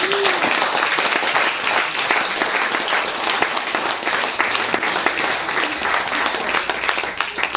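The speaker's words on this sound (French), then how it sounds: "On peut l'acclamer mes amis." A church congregation in Tahiti, French Polynesia, bursts into loud, sustained applause, dense clapping filling the room throughout with a brief voice at the start.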